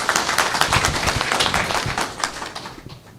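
An audience claps together to welcome a speaker at an indoor event, with steady, dense clapping that holds for about three seconds and then thins out.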